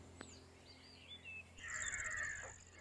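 Birds calling at Vellode bird sanctuary in Erode, with crow-like caws and higher chirps at moderate distance over a steady low background hum, the calls growing busier and louder in the second half.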